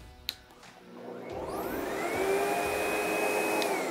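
A SEBO Automatic X8 upright vacuum cleaner motor soft-starts after a small click, its whine rising gradually in pitch and volume over a couple of seconds before settling into a steady, close, loud drone.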